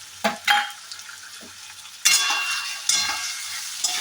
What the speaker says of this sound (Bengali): এই কয়েকটি উপকরণ একটু সুন্দরভাবে নাড়িয়ে নিচ্ছি